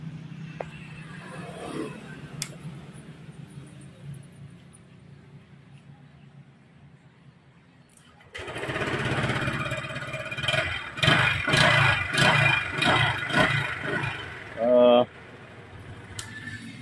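A motorcycle that will not start is cranked and sputters into a loud, rough, uneven mechanical clatter after a quiet stretch, running for several seconds under brief voices.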